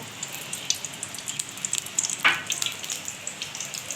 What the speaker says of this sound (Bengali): বড়িটা আমি ভেজে নেব ভেজে তুলে রাখবো